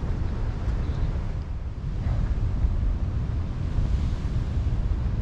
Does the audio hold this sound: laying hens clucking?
no